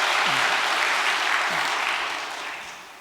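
Applause from a church congregation at a Unification celebration service, a full, steady wash of many hands clapping that gradually tapers off near the close, with a faint voice briefly heard beneath it.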